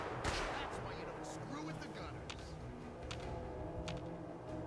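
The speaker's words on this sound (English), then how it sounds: "People are shooting me from places I can't even see." Distant, sporadic video-game gunfire from a wasteland shooter, sharp scattered shots cracking over a constant dense background rumble, with no clear voices.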